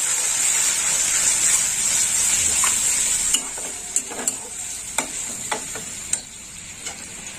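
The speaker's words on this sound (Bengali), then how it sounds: "পেঁয়াজটা একটু লাল লাল ভাজা হবে।" Ground onion paste fries in hot oil with a steady sizzle, then about eight sharp scraping stir strokes break in at irregular intervals over the quieter frying hiss.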